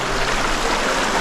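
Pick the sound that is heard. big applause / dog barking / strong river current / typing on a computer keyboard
strong river current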